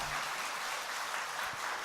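Steady applause from a lecture audience at a parenting seminar, a dense even patter of many hands clapping throughout with no voices over it.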